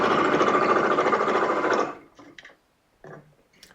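A sewing machine runs in one loud, steady burst of stitching through skirt fabric, then stops, leaving a few faint handling clicks and rustles.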